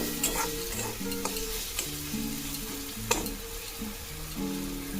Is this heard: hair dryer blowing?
no